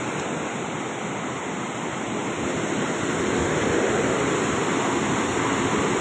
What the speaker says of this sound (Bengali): কীরকম ড্যামের থেকে জলটা ছাড়া হয় দেখো